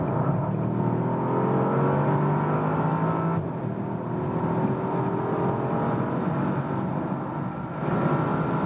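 A 2020 Bentley Continental GT V8 in sports mode pulls hard from 90 km/h, with a steady, loud engine drone that climbs in pitch, briefly dips at a gearshift, then keeps rising, heard from inside the cabin with no talking.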